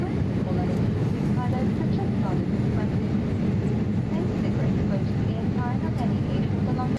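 Cabin noise inside a small aircraft in flight, a steady loud drone and rushing roar that holds without a break, with faint voices talking beneath it.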